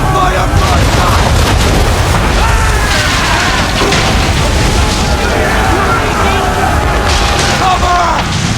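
A naval ship firing a cannon broadside in Assassin's Creed 3, a continuous loud roar of booms and crashes over churning sea noise, with shouting voices mixed in.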